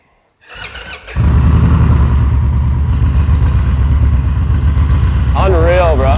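Custom bagger motorcycle engine cranking and firing up nearby, the starter whir catching into a loud, rumbling idle that holds steady, with voices coming in over it.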